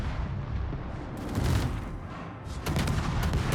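Distant naval gunfire in a warship game around the Italian tier 10 destroyer Attilio Regolo, muffled booms and crackling impacts rolling over a continuous rumbling engine and sea backdrop, with a heavier burst near the end.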